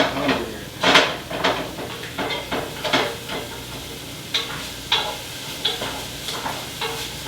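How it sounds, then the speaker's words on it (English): Onions sautéing in a pan for chicken cacciatore, with a soft sizzle under repeated utensil scrapes and clinks against the pan, close by and without talk. "So just saute the onions."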